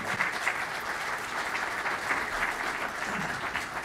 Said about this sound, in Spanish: Les pido recibir con un aplauso a nuestros expositores y al conductor del debate.